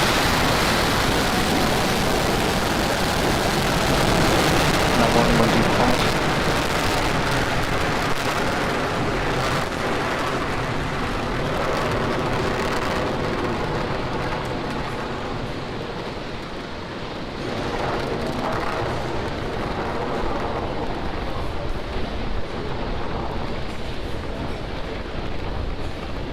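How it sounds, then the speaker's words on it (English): SpaceX Falcon 9 rocket carrying a Dragon capsule lifts off with a dense, sustained broadband roar, loud and crackling, holding steady for the whole stretch and easing slightly late. "Ignition, liftoff. Carpe diem, Dragon 1. Vehicle is pitching downrange."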